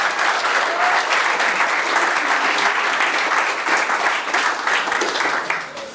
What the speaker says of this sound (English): Round of applause for Jem.